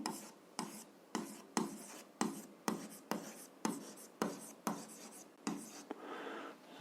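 Pen or pencil scratching out algebra notes on paper, a steady series of about a dozen short strokes with brief pauses between, close and fairly quiet, no voices.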